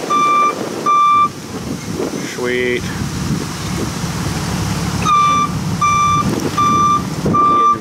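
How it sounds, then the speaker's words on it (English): Two garbage trucks reversing at once, their loud, steady electronic backup beeps repeating in regular pulses over engine rumble and wind noise outdoors, with a brief spoken word in between. "Oh, we got dual trucks here."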